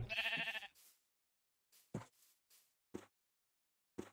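Sheep in the video game Minecraft bleating: one long, loud bleat up front, then several short, fainter bleats spaced apart in otherwise silent gaps.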